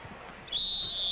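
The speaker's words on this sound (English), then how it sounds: "Foul whistled on Steve Alford or Leon Wood" A referee's whistle blown for a foul at a 1984 Olympic basketball game, one sharp sustained shrill blast cutting in over faint arena crowd noise.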